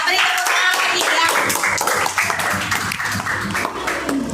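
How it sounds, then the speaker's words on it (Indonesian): A school class of children clapping their hands together after a group performance, loud and close, a dense continuous patter with voices mixed in. "Ya, beri tepuk tangan lagi ya."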